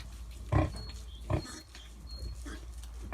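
Hungarian Mangalica piglets, about a week old, grunting in a few short close bursts over quiet background rustle, with softer snuffling between.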